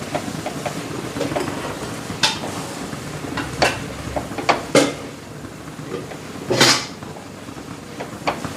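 Flattened rice being stirred in a pan over a low flame, with irregular scraping and clinking strokes of a spoon against metal, several louder knocks standing out over a steady background hiss.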